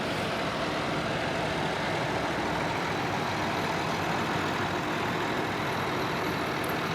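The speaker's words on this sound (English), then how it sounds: "one of the most popular Allis-Chalmers tractors of all time is the Allis-Chalmers D21" An Allis-Chalmers D21 tractor engine rumbles steadily during a tractor parade in Dyersville, Iowa, a continuous heavy low drone at moderate distance with no voices over it.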